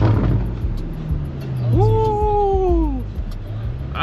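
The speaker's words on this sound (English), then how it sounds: "I know y'all want to hear the car." A $130,000 BMW being driven, its engine holding a low steady drone with a smooth rising and falling whine sweeping through midway, close and fairly loud.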